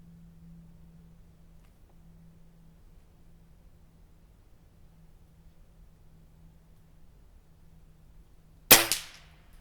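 A single sharp shot from an HW97K air rifle fired at a target, a sudden loud crack near the end after a long quiet stretch of low hum.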